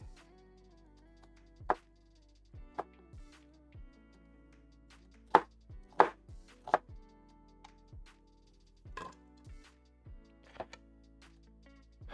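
Knife strikes a board in a home kitchen while onions are cut for an Irish stew, sharp irregular chops spaced a second or so apart, close and fairly quiet with low background hum.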